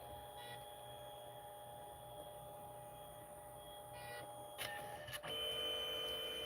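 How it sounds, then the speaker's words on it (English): A thermal ink photo printer at work, giving a steady high mechanical whine and hum with a couple of short clicks and shifts in tone near the end, quiet and close with no talking. "So this is how this printer prints. It's a thermal ink printer."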